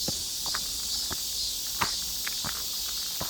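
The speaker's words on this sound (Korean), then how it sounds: "매미 소리 들으면서 천천히 올라가다 보면" Cicadas singing in a forest beside a long stone stairway on a Seoul nature trail, a steady bright high drone filling the background while footsteps climb the stairs at an irregular pace nearby.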